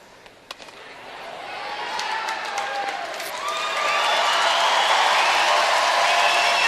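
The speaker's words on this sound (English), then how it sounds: "you could tell by that cheer that it's a very good score for the Czech Republic" Crowd at a women's world curling championship game breaks into cheering and applause, swelling from scattered claps into a loud sustained roar of voices and whistles that holds strong to the end, with no talk over it.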